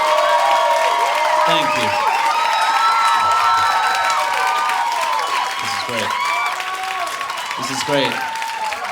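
A comedy club audience in Oakland keeps up steady applause and cheering under a comedian who speaks briefly over it, the clapping dense and sustained at moderate loudness.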